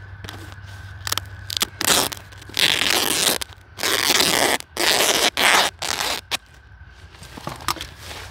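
Woven ground cover fabric stretched over a garden bed is cut in several bursts of crisp, rasping slicing, each lasting under a second, with short pauses between them. The sound is close and fairly loud, and no one speaks.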